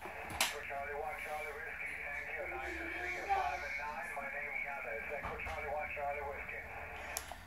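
Amateur radio voice transmission received on a Xiegu X-108G transceiver, a station talking through a narrow, filtered channel with a faint hiss, steady and close, with a couple of sharp clicks.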